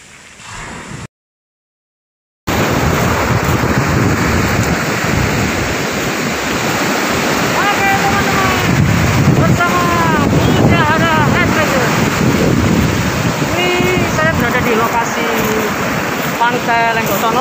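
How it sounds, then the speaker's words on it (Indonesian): Ocean waves wash steadily at Lenggoksono beach in Malang, a continuous loud surf roar with wind buffeting the microphone and a few voices talking over it. "Keren banget ombaknya"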